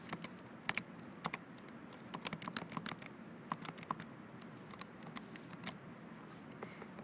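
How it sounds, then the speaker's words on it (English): Numbers being keyed in on a calculator: a quick, irregular run of light plastic key clicks, close and fairly quiet, with no talking. "And then we're going to type it in our calculator."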